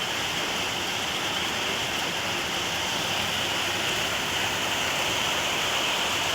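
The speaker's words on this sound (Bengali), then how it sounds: "খুব জোরে বৃষ্টি হচ্ছে।" Heavy rain pours down steadily in a dense, even roar of hissing drops, loud and unbroken throughout, with no voices.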